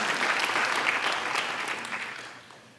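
Audience applause fills a school convocation ceremony for graduating students, a dense steady patter of many hands that holds strong and then begins thinning and fading toward the end.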